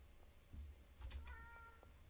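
A pet cat gives a couple of short, faint meows indoors in a quiet room, with low thumps and background hum around them.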